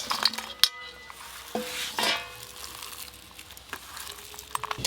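A utensil clinks and scrapes against a bowl while fish mash (mourala fish) is mixed by hand with fried chili, salt and mustard oil: a few scattered taps and soft stirring, close and fairly quiet.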